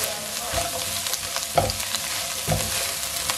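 A teaspoon of vinegar splashed into Chinese fried rice in a hot pan, a steady close sizzle with brief louder hisses and clinks of a utensil against metal, no voices.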